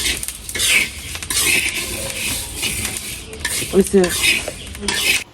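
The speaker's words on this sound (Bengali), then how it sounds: "নাস্তা করবো না, সেই জন্য চাল ভাজি করতেছি" Rice dry-fries in a pan, stirred with a metal utensil: rapid close scraping and rattling of grains, clinks against the pan and a light sizzle beneath.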